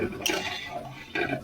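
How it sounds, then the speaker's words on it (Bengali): A spoon stirs palm fruit kheer with milk in a metal pot, giving soft scraping and clinking against the sides in two short bursts, close and fairly quiet. "এইভাবে নাড়তে হবে কিছুক্ষণ, তালটা যাতে দুধের সাথে মিশে যায়"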